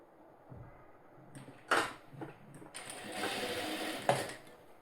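A sewing machine stitches a blouse seam in short bursts of rapid mechanical whirring, with a couple of sharp clicks and pauses between runs, close by and fairly quiet.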